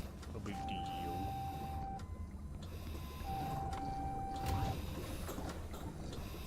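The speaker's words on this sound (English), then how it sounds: "I really do hate that printer noise." Printer in the survival game Forever Skies running in a long steady mechanical whir with two sustained electronic tones, loud throughout with speech over it.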